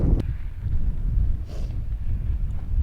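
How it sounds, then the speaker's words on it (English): Strong wind buffeting the microphone on open grouse moorland in rain, a low rumbling roar throughout with gusty swells. "Windy as hell, rainy, windy"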